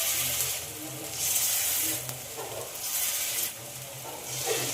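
Batter fritters fry in smoking-hot white oil, crackling and hissing in loud pulsing waves as they are turned, with faint voices underneath.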